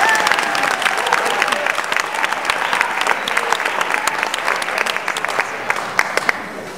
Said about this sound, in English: let's give a big round of applause for Micah and Josh